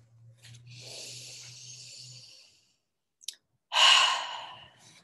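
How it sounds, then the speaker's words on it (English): A deep breath during a relaxation tapping session: a long airy inhale, a pause with a small click, then a strong close exhale that trails away. "Deep breath."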